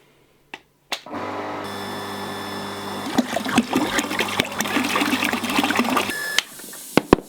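Water being pumped back into a home heating system with a newly added radiator: a steady broadband rush and trickle of flowing water under a continuous mechanical hum, with a few sharp clicks and taps, lasting several seconds.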